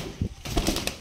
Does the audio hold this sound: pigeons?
yes